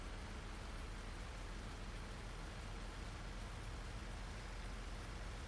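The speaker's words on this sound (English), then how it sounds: "It's still raining pretty heavily." Steady, even heavy rain hiss in Farming Simulator 19, with no breaks or voices, fairly faint overall, like heavy rainfall heard from indoors or at a distance.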